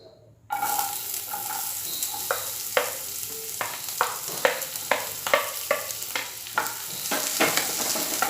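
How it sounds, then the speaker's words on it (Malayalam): Finely chopped onions hit a hot pan for egg fry, bursting into a sudden loud sizzle followed by a rhythmic run of spatula scrapes and stirs over the steady frying hiss. "നമ്മൾ ചെറുതായി അരിഞ്ഞു വെച്ചിട്ടുള്ള വലിയുള്ളി ചേർത്ത് കൊടുക്കുകയാണ് നന്നായിട്ടൊന്ന് വഴറ്റിയെടുക്കണം"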